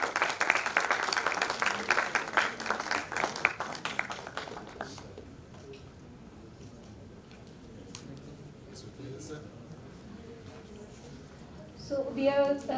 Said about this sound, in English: Please have a big round of applause for Mark Meadow